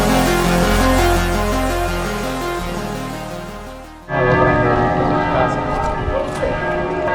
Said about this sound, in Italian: Mezzogiorno, si sentono le scampanellì.